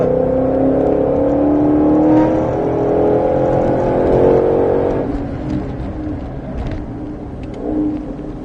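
A 2021 Mustang GT500 accelerates hard on the Folembray race circuit, its loud engine note climbing steadily for about five seconds before easing off into a lower, quieter drone.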